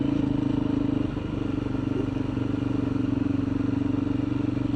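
A 390 motorcycle rides along with a steady, throbbing engine drone, close and fairly loud, with a brief dip in revs near the start and no speech.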